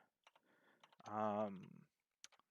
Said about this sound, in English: I just type it in